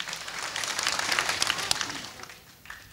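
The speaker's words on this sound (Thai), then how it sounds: "ถ้าคิดว่าชนะขอเสียงปรบมืออีกสักครั้งหนึ่ง" An audience claps for a singing contestant at a Thai comedy show, a brief burst of fairly faint, somewhat distant applause that swells and then fades away.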